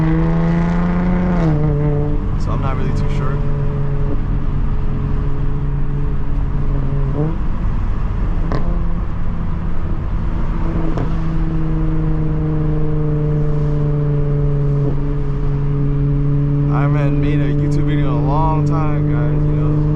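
A 2025 Honda Civic Type R is driven hard, its engine droning loud and close, with rising revs cut by gear shifts and pitch drops a few times.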